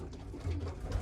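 Breeder pigeons in a loft cooing softly, with low murmuring coos rising and falling close by, some repeat breeders and their young among them.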